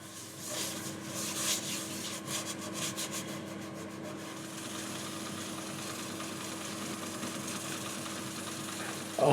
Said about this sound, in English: I decided to burnish some of this with cut and polish